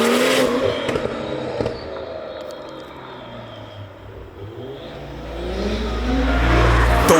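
A car engine with rolling anti-lag engaged revs hard and rises in pitch, with popping and crackling bursts, growing louder toward the end.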